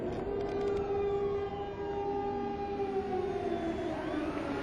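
An air raid siren sounds in Haifa, a long steady wail with slowly gliding pitch over a constant rumbling background, distant and continuous.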